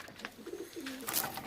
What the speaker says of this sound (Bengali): এই দেখুন পায়রা দেখুন কেমন।